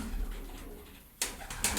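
A pigeon coos softly and low, close by, with a couple of sharp clicks or taps near the end.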